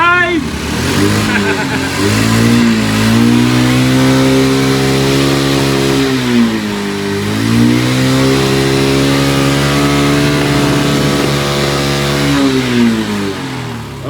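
Honda Wave motorcycle engine idling steadily after a carburetor and CDI repair, a loud continuous drone with slight dips in pitch, under a voice and laughter nearby.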